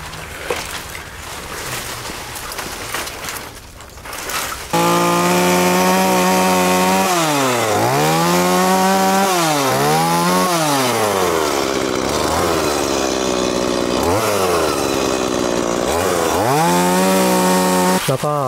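Chainsaw cutting wood starts after quieter sounds, then a loud, close engine whine rises and dips repeatedly as the blade bites and revs through the cut.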